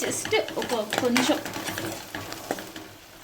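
Chili and coriander powder fry in a pan for butter chicken while a spoon stirs and scrapes against the metal, with soft sizzling underneath; a few sharper clinks rise near the start.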